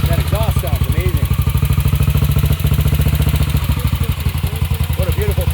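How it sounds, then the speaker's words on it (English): A single-cylinder 500 cc thumper motorcycle idles close by, its exhaust giving a steady, loud, rapid thumping pulse throughout, with brief voices over it near the start. "That's what they call a thumper. The original thumper. Single cylinder. That exhaust sounds amazing."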